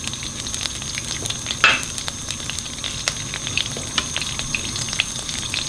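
Onions fry in hot oil in a karai over a high flame, a dense, close crackling sizzle running throughout with one brief louder burst of spatter early on and scattered sharp pops.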